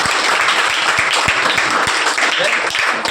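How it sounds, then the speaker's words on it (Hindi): Audience applause for a teacher at a student welcome event, a dense burst of many hands clapping, loud and continuous for a few seconds. "एक बार जोरदार तालियां बजाई जाए सर के लिए।"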